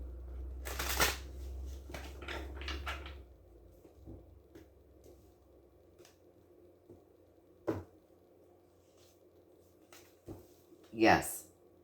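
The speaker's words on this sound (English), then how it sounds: "I'm going to shuffle them one more time and then I'm going to cut them." A tarot deck is shuffled in quick, papery riffles at close range during the opening seconds, followed by quiet room sound with a few light clicks and taps.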